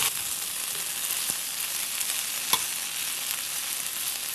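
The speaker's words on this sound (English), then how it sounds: "You know I love a sizzle, right?" Green beans sizzle and fry in a hot pan, a steady close crackling hiss with a couple of brief clicks and stirring knocks and no talking.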